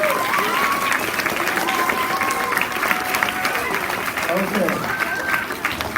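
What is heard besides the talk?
audience applause for a group of boys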